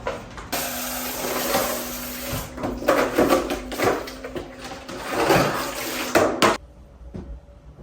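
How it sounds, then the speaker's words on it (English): Containers rinsed under a running kitchen tap, a steady close stream of water with clattering and knocking of dishes for several seconds before the flow cuts off abruptly. "I'll give a quick rinse and let them dry."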